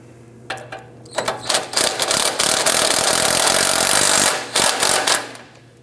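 A ratchet or power tool tightens the bottom bolt of a rear sway bar link on a 2009–2017 Audi Q5, giving a close, loud, sustained rattling burst broken by short stops and restarts.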